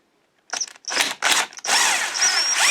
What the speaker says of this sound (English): Going to the old DeWalt screwdriver.